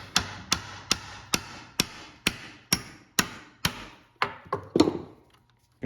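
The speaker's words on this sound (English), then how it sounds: "take your hammer." A hammer taps a small punch to drive a tiny clip out of a Honda Odyssey sliding door, about a dozen sharp, close metallic strikes in a steady rhythm that grows slightly quicker and uneven near the end.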